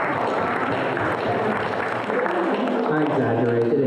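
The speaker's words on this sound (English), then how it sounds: "let's give them a round of applause" An audience at a university poetry event gives a round of applause, a busy wash of clapping mixed with murmuring voices that carries on steadily through the short stretch.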